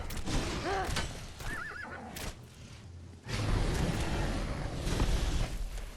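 A horse in the Conan Exiles video game neighs with a clear whinny in the first seconds, followed by hoof clip-clop and whooshing game sounds.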